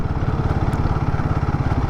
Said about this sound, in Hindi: मैं 5th गियर पर हूँ और मिनिमम कितने स्पीड पर मैं इसको क्रूज कर सकता हूँ